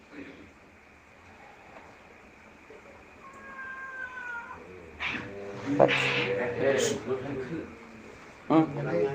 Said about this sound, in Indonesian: Kucing kararawin.